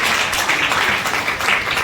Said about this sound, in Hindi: एक बार जोरदार तालियां इनके लिए प्लीज।